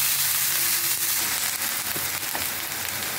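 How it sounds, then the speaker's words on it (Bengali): Coconut paste and nigella seeds fry in hot oil in a pan, giving a steady, dense sizzle and crackle that holds evenly throughout with no talking. "নারকেল বেটে রেখেছি, সেইটা আমি এখন ভালো করে ভেজে নেব"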